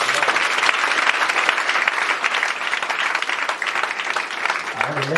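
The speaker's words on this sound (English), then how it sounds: "Clap for yourself." A church congregation claps together in a continuous, dense burst of applause for several seconds, fairly loud and unbroken.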